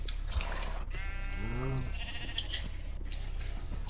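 A sheep in the video game SurvivalCraft gives a single wavering bleat, clear and fairly close, rising over a steady ambient hiss, with no voices present.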